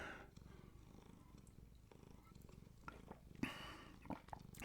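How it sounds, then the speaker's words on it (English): Soft, close purring from a cat runs quietly throughout, a low continuous rumble with a few faint rustles and small handling noises over it. "Some purring in there."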